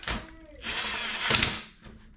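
An impact wrench tightens bolts on a Bad Boy Revolt mower during a pad replacement, two short whirring, hammering bursts close by, with a brief pause between them.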